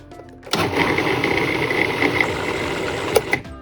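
A food processor blends hummus with curry powder, its motor starting abruptly and running as a loud steady whirring grind with a rhythmic mechanical chatter before cutting off after about three seconds.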